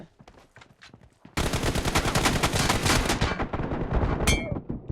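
Video game gunfire: scattered single shots, then a dense, loud burst of rapid automatic fire that holds for about two seconds before tapering off, with no talk.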